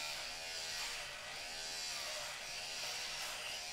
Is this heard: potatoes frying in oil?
no